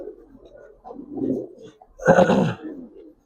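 A pair of Giribaz racer pigeons coos nearby in low throaty phrases, with a louder, fuller call swelling near the end against an otherwise quiet background.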